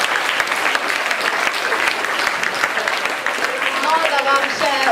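Audience at a quiz evening breaks into applause, a dense patter of many hands clapping close by, sustained for several seconds, with a voice speaking over it near the end.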